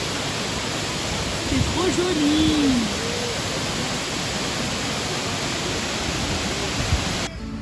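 A waterfall on Réunion Island gives a steady, enveloping rush of white water, constant and close, while someone briefly speaks over it.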